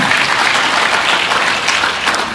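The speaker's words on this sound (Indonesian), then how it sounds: "Tepuk tangan dong buat Tuhan" A church congregation breaks into loud, dense applause during a sermon, continuous clapping filling the room from start to finish.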